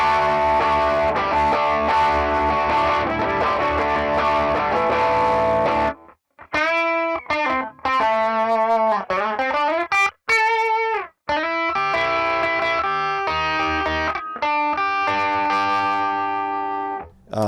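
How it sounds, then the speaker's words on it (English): Heavily distorted electric guitar on the bridge pickup of a Leo Jaymz Les Paul-style guitar, played alone, first as dense sustained chords, then as choppy riffs and single notes with short gaps between phrases. "let's try a little bit of distortion on it."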